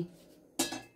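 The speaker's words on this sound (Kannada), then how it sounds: "ಬಾಣಲೆ ಇಟ್ಟು" A metal frying pan (kadai) set down on a gas stove in a home kitchen, a single sharp clank followed by a short ringing rattle.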